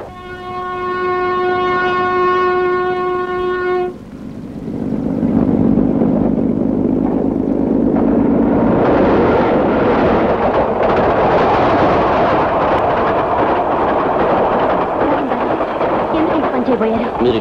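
A train horn sounds a sustained blast for several seconds, then a heavy rail rumble swells and grows louder as the train draws near in a Telugu film scene.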